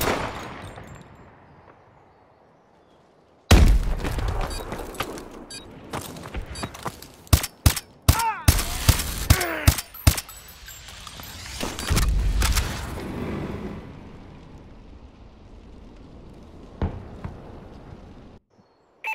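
Multiplayer gunfire in Call of Duty: Advanced Warfare, with sharp rapid shots and bursts clustered through the middle over a busy, rumbling game soundscape, fairly loud and close.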